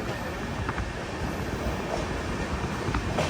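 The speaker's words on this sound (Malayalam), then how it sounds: "തൃശ്ശൂർ റെയിൽവേ സ്റ്റേഷനിലേക്ക് ഇതാ നമ്മുടെ ട്രെയിൻ എത്തിക്കൊണ്ടിരിക്കുകയാണ്" Train pulling into Thrissur railway station, a steady low rumble of rolling stock with faint rhythmic wheel clicks, continuous and moderately distant, no talking.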